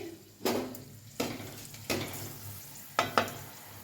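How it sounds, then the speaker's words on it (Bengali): Dried red chilli hits hot oil for tempering, giving a quiet sizzle broken by a few sharp spatters and stirring clicks. "এবার আমি শুকনো লঙ্কাটা ফোড়ন দিচ্ছি।"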